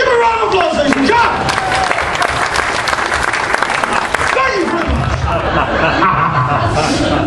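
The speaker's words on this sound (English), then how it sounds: "Give a round of applause, ladies and gentlemen." A concert audience claps in sustained, dense applause for a magic-comedy act, loud and close, with scattered chatter and a few chuckles mixed in.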